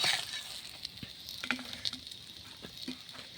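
Soft, steady sizzling of eggplant frying in oil, with faint scattered crackles and a few light clinks, fairly quiet and with no voices.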